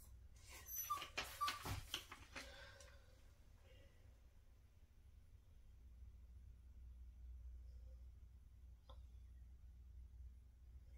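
Puppy shut outside a room, whining and whimpering in a short burst of high cries near the start, then quieter with faint household noise.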